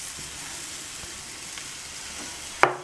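Grated carrots fried in ghee sizzle steadily in a pan for carrot halwa, a soft continuous crackle and hiss, ending in a sharp bump as sugar goes in.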